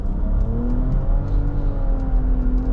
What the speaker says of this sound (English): Let's hit the gas here.